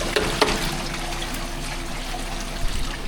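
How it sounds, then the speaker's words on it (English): Fresh clean water trickles steadily out of a gold mine adit, a close continuous splashing flow with a couple of brief sharper drips. "Still got fresh clean water coming out"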